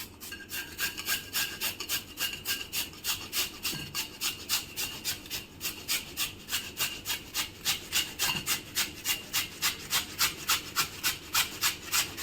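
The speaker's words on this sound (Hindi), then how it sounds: "इसे हम बारीक घिसनी से इसको अच्छी तरह से कद्दूकस कर लेंगे।" Peeled raw potato is grated on a fine grater in steady, rhythmic rasping strokes, roughly two per second, close and moderately quiet, with no voices.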